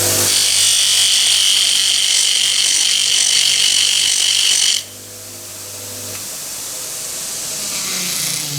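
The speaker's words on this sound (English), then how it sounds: "you should really rake these polishing mops to renew the surface, get rid of any grit or any dirt that might be in the surface of the mop" A raking tool pressed against a spinning polishing mop on a buffing machine, a loud harsh hissing scrape for about five seconds that cuts off, leaving the motor whirring as it winds down.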